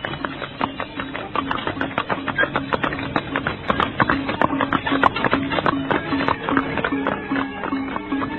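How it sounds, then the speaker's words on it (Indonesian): Horse hooves clip-clopping as a royal procession leaves a palace, a steady dense patter of many hoofbeats at close range, continuous and fairly loud throughout. "Rasemi dan Rakuti juga sudah duduk di atas punggung kuda"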